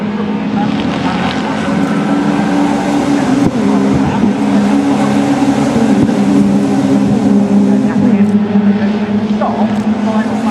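Honda Civic Cup race cars roar past at Oulton Park near Lodge Corner, a loud, continuous engine drone with wind buffeting the microphone and a race commentator talking over it.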